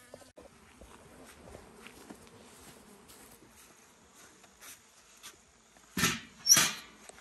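Bees buzz faintly around a water feeder at an apiary on a hot day: a thin, steady hum at low level, followed near the end by two louder close thumps.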